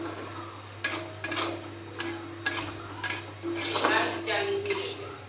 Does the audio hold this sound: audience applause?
no